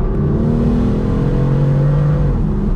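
A BMW M4's engine drones and revs steadily while driving, a continuous close rumble with shifting tones and no voices.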